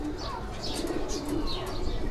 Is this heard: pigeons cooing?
yes